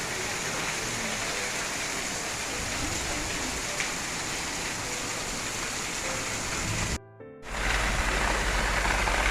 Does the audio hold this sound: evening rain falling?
yes